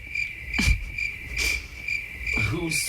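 Cricket chirps used as an awkward-silence sound effect, a steady high trill pulsing in regular bursts, with faint voices briefly murmuring underneath.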